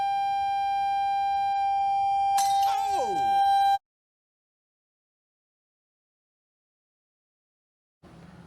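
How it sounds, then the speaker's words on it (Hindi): A glass shattered by a resonant voice tone: a steady pure sung pitch holds, then a sharp crash of breaking glass with scattering tinkles, followed by silence and faint talk at the end. "किस तरीके से शीशा को आवाज से तोड़ा जा सकता है"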